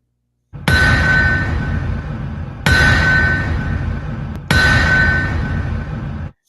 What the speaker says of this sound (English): That is the sound of the anvil.